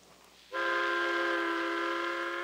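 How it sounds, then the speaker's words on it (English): A New York elevated train sounds a sudden loud horn or whistle, a sustained steady tone that starts abruptly and holds for about two seconds with no talking. "Ride the elevated train all the way from the Battery far uptown."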